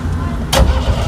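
A Fiat Padmini engine cranks and catches in one short, loud burst over a steady low rumble.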